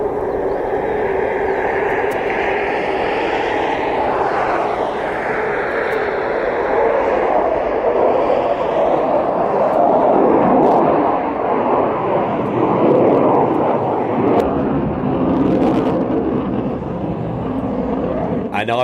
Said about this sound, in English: And I will never forget the takeoff on the Monday morning.